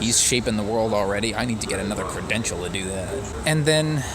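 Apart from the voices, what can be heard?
No everyday noise stands out behind the speech.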